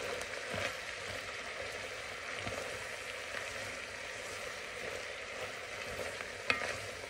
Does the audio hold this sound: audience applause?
no